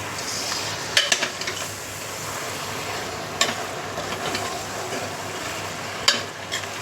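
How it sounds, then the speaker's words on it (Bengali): Goat meat being stirred with spices in a pot, a soft continuous scraping and mixing texture punctuated by a few sharp clinks of a utensil against the metal, with no talking. "ভালো করে মশলার সাথে মাখিয়ে নিই আগে"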